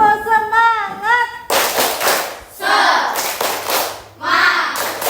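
A class of children stands for a tepuk semangat icebreaker, chanting together and then clapping in sharp, loud group bursts in a set pattern, with their voices between the clap rounds.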